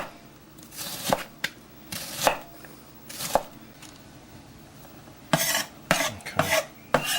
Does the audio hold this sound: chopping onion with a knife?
yes